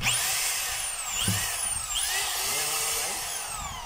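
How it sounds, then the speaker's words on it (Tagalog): An electric rotary hammer drill, newly repaired with armature, field coil and brush holder work, runs in a test: a loud, steady motor whine with speed rising and falling in sweeping glides and a few low knocks, no voices. "Testing natin yung hammer kung gumagana."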